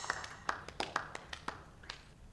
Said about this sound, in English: So I thought we could begin with a round of applause